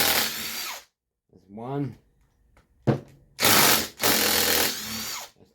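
A power tool undoing the big cylinder bolts on a Stihl MS290 chainsaw: short loud bursts of whirring and rattling, separated by pauses, with someone speaking briefly between them.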